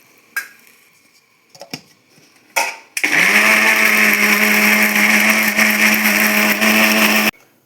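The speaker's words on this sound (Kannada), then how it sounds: "ಇದು ಮಿಕ್ಸರ್ ಜಾರಿಗೆ ಹಾಕ್ಕೊಳ್ಳೋಣ" After a few scattered clinks and knocks, a kitchen mixer grinder jar starts up and runs loud and steady for several seconds grinding fish curry masala for a Katla fish curry, then cuts off abruptly.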